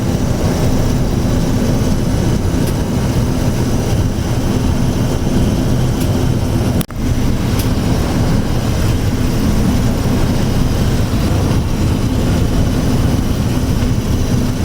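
A loud, steady hovercraft engine drone with a constant low rumble and broadband roar, briefly interrupted by a single sharp click midway, on a trip between Prudhoe Bay and Northstar Seal Island, Alaska.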